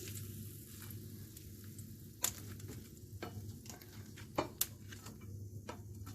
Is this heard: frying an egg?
yes